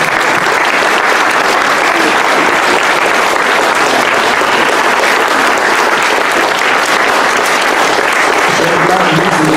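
Sustained applause from an audience at a ceremony honouring Righteous Among the Nations, dense steady clapping filling the whole stretch with some crowd murmur mixed in.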